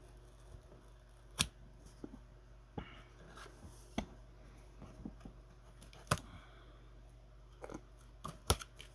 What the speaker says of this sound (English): So I'm going to go ahead and cut the tape.